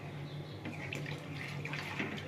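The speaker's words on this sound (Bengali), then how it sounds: "একটু জল দিয়ে দেবো।" Water poured into a pot of mango dal, a quiet, steady trickling and splashing close by, low in level and alone, with a faint kitchen hum underneath.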